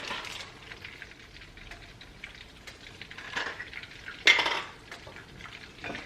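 Fresh and minced garlic tipped into a hot pan for a seafood sauce, with a soft sizzle, light scraping and utensil clatter, and one louder clatter near the end, close up and without talk.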